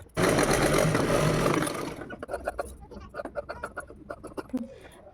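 A sewing machine runs loudly and continuously while stitching a zigzag seam, then stops, and a voice keeps talking briefly afterward.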